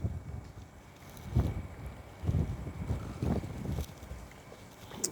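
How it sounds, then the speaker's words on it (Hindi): Wind blowing outdoors in Lahore, a gusty rumbling rush buffeting the microphone in uneven surges, heard alone without talk. "देखो बाहर कितनी प्यारी हवा चल रही है।"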